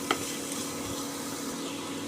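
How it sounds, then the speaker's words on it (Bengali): Radish pieces frying in oil in a pan for a vegetarian mixed curry with radish and eggplant, a soft steady sizzle with a brief stir click at the start, no talking. "এদিকে মূলোটা ভাজা হোক,"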